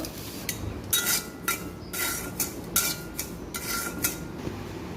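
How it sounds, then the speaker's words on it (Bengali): Semolina stirred into warm cow's milk in a wok, giving a series of scraping, clinking spoon strokes against the metal pan in irregular bursts, close and moderately loud with no talking. "এখন এর ভিতরে আমি এই সুজি দেবো আর নাড়তে থাকবো"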